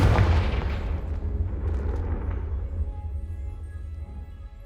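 The Confringo fire spell from Hogwarts Legacy detonates with a heavy booming blast right at the start, then a deep rumbling tail fades out over several seconds.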